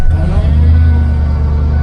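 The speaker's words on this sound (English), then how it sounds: "let's see if we can get this to crank. Come on, truck. Listen to this thing." A 1999 Ford F-150 pickup starts cold in a Minnesota winter, giving a loud, steady, low engine rumble that holds unbroken from start to finish.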